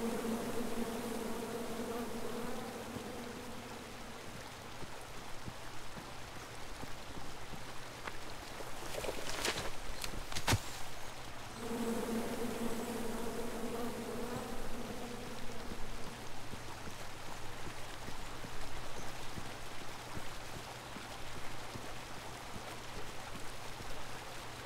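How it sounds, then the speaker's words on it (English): Bees buzz steadily in a King's Quest video game scene, a continuous swarming drone over ambient background sound, with a short sharp effect midway and the buzz swelling in and out. "Come at me, bees!"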